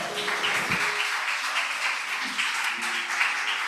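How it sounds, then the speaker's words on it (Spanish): A church congregation applauds steadily, the dense clapping spread through a large room and filling the whole short stretch at moderate loudness. "Dele un aplauso al Señor."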